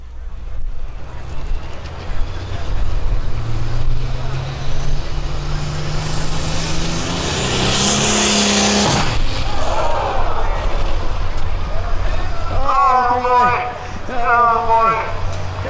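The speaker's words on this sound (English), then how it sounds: "That was a turbocharger in big fashion." A turbocharged pulling tractor roars down the track at a county fair tractor pull, its loud engine rising in pitch to a blaring peak before dropping away, followed by crowd noise and an announcer talking.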